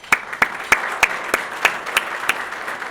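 An audience at a family business awards event applauds its sponsors: a steady wash of clapping with sharper individual claps popping out at a regular pace, no voices over it.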